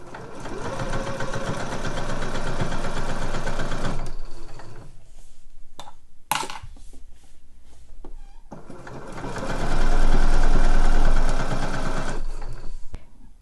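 A sewing machine stitches the soles onto handmade knit slippers, running loud and steady in two long bursts with a brief pause between them, close to the mic with no talking.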